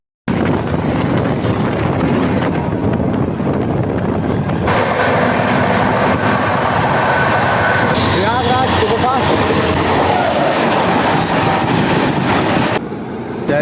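The Sangam Express at Tundla station, a loud, continuous rumble and rolling clatter of rail cars with heavy wind buffeting, heard close by for the whole stretch.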